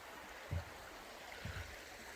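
A river in Ecclesall Woods, Sheffield, flowing beneath a footbridge, a faint steady hiss of running water with two soft low thuds, no voices.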